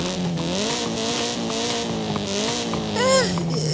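A Nissan S13 with an SR20 engine and stock exhaust runs steadily with a droning, slightly rising engine note, loud and close, with a brief tire chirp near the end.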